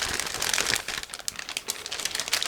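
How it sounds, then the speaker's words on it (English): A large plastic bag from a 1/48 scale ICM B-26K model kit is opened by hand, giving steady close crinkling and crumpling with sharper rustles throughout. "Now I'm opening another plastic bag"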